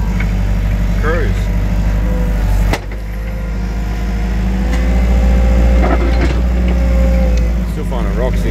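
Wacker Neuson 901s skid steer engine cruising in second gear, a steady low rumble from inside the cab with faint clanks, while a person talks over it throughout.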